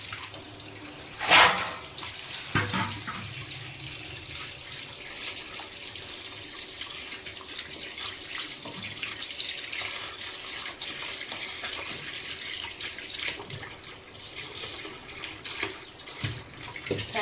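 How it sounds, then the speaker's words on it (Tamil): Tap water running steadily into a sink while fish is washed by hand for frying, a continuous close splashing stream with small clatters and knocks, no talk. "ஃபுல்லாக இதெல்லாம் எடுத்து வாஷ் பண்ணணும்"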